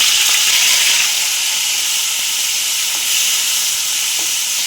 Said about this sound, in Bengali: কড়াতে তেল দিয়ে দিলাম, দুটো শুকনো লঙ্কা দিয়ে দিলাম, কালো জিরে দিয়ে দিলাম।